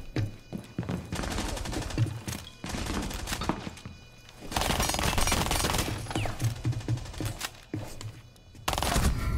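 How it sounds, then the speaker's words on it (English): Sustained light machine gun fire in Rainbow Six Siege, several long rapid bursts of close gunshots separated by short pauses. "Respect to this guy for using the LMG."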